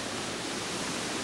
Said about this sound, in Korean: 깎아지른 벼랑, 첩첩이 쌓여 웅장하고 아름다운 폭포들.